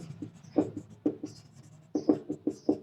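Marker writing on a board during a psychiatry lecture, a run of short scratchy strokes in quick uneven rhythm with brief pauses, close and clear without talk.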